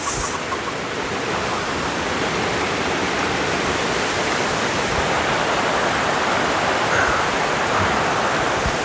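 Water rushes steadily through a forest, a loud, constant broadband roar like a nearby stream or small waterfall, with no voices over it.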